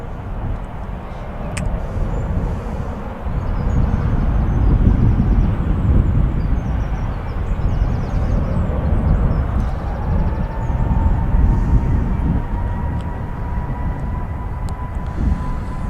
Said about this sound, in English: An aircraft just on the roll now. We'll catch that shortly. It's another EasyJet.